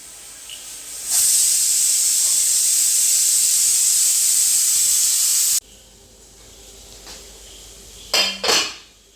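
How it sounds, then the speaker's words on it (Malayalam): A kitchen pressure cooker whistle blasts loudly and steadily for several seconds during night-time cooking, then cuts off, leaving quieter steam hiss and a couple of short clattering dish or lid bursts near the end. "അപ്പൊ നമ്മുടെ കുക്കറിൽ ഒരു വിസിൽ വന്നു കേട്ടാ"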